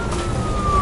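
Police car siren in the video game Nobody Wants to Die, a steady wailing tone running through the whole short moment over a dense, rumbling ambient background.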